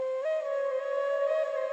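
Simple bansuri flute line played as part of an Ableton-produced Indian and American fusion song, heard as a steady sustained breathy tone with a slight pitch step near the start, alone and fairly loud with the high end cut.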